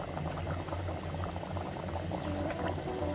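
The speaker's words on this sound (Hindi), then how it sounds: "बहुत अच्छे से पानी उबल रहा है" Water bubbling at a steady rolling boil in a pot for pulao, a continuous close gurgle and hiss with no voices.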